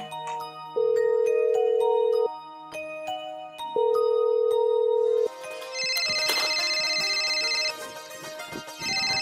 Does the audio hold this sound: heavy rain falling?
no